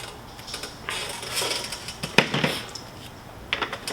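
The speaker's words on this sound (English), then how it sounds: "Get you some really good scissors" Scissors snip through copper line with hash marks, several sharp metallic clicks and crunching cuts up close, spaced irregularly with brief handling rustles between them and no one talking.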